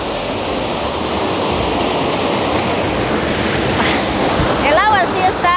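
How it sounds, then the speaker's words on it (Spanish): A waterfall near La Paz, Bolivia, splashes in a constant loud rushing wash of water, with a brief whistling or voice-like sound near the end. "Miren qué hermosa cascada y cómo se va."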